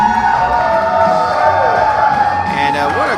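A live crowd at a professional wrestling show in the Homer Opera House cheers and shouts steadily and loudly, with whoops rising near the end.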